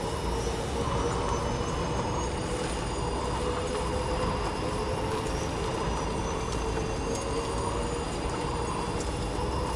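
A monorail train running along its track, a continuous rumbling roar with faint high wheel squeal lines, steady and close for the whole stretch, with no talking.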